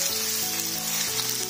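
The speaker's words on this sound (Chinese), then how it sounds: "油热后倒入腐竹" Tofu skin frying in hot oil in a wok, a steady close sizzle and crackle that runs unbroken, with a low tonal hum beneath and no talking.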